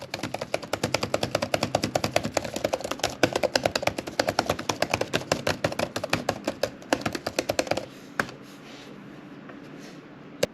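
Rapid, steady typing on a Dell Precision 7760 laptop keyboard, dense clicking keystrokes for about eight seconds, then stopping and leaving a faint background hiss.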